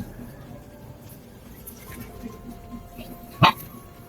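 A single short, sharp dog bark sounds once near the end, standing out over otherwise faint, quiet background noise.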